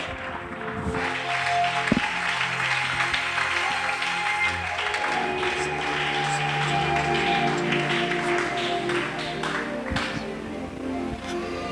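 Church congregation applauding and cheering in praise, a dense sustained wash of clapping filling the room steadily throughout.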